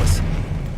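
An Expelliarmus disarming spell cast in the video game Hogwarts Legacy: a single short, bright blast right at the start, fading into a rumbling background.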